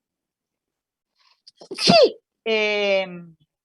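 One sharp, close sneeze is followed a moment later by a short spoken word, against a quiet room.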